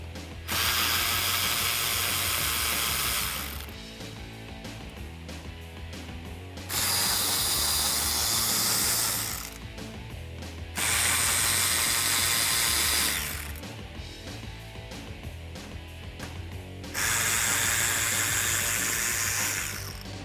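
Ratchet wrench with a 5.5mm socket backing out screws along the bottom of a 2005-2009 Mustang GT bumper, clicking loudly up close in four bursts of rapid ratcheting separated by short pauses.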